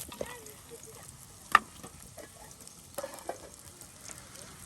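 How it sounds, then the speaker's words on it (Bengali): Ground spices and chopped onions fry together in a pan with a low, crackling sizzle, punctuated by sharp scrapes and knocks of stirring; faint voices are heard in the background. "দেখুন সুন্দর করে সব একসাথে ভেজে নেওয়া হচ্ছে।"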